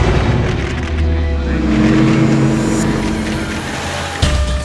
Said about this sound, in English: 4 German armored cars race onto the airstrip